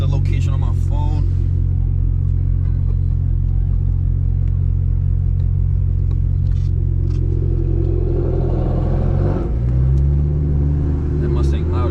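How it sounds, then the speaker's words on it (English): A loud Ford Mustang engine rumbles deeply and continuously at a car meet, heavy and close, with a shift in its note near the end and voices faintly mixed in. "That Mustang loud as shit."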